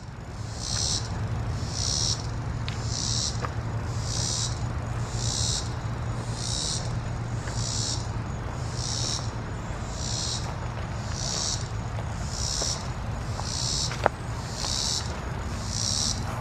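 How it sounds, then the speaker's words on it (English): Insects chirp in steady repeated pulses outdoors at a kayak spot, about a dozen evenly spaced bursts over a constant low buzz, loud and close with no talking. "Damn bugs are going to drive me crazy out here."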